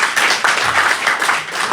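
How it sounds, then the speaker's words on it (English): A round of applause from a group, dense and loud continuous clapping that holds steady with no break and no talk over it. "he gets a round of applause"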